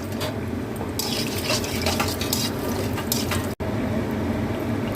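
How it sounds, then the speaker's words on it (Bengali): Bori, small sun-dried lentil dumplings, fry in very hot oil in a kitchen pan, giving a busy close-up sizzle mixed with stirring scrapes and light clinks of utensil against metal, all without speech. "এবার বড়িগুলো আমি ভেজে তুলে নেব"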